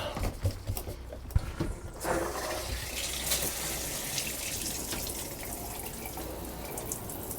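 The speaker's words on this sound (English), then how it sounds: "Water pressure kind of sucks at this park." A faucet at an Arizona park runs with weak pressure, a steady hissing trickle into a sink that starts after a couple of soft knocks and continues alone.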